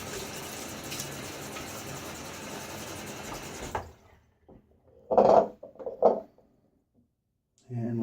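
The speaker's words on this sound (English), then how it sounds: "Get my face wet a little bit." Tap water runs steadily from a faucet for a few seconds while a face is wetted before shaving, then stops, followed by a few short splashes and quiet handling sounds.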